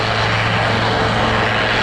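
Royal Navy helicopter flying at the Waddington air display, a loud, steady broadband roar of rotor and engine noise held constant and close for a brief moment.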